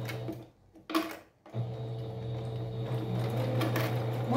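Sewing machine stitching fabric for a cloth charger-plate cover with an elastic channel, starting with a couple of short bursts, then running in a steady close, loud mechanical whir with rhythmic ticking.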